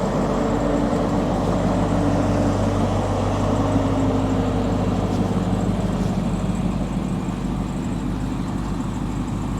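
A 1999 GMC tow truck drives along with a steady, heavy engine drone and low rumble, constant and loud from inside the cab, with road noise and no talking.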